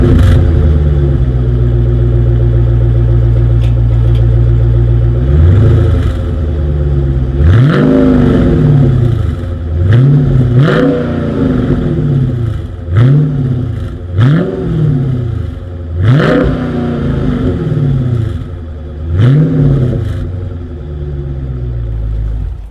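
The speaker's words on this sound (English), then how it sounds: "As always, here is that exhaust clip." A 2020 Dodge Challenger R/T Scat Pack idles loudly with a deep rumble, then its exhaust barks through about six sharp revs in a row, each rising and falling back to idle, close by and with no talk.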